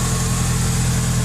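A 1986 Ford Mustang SVO engine idles steadily and close by, a low even rumble with a constant throb that holds for the whole short stretch, with no voices.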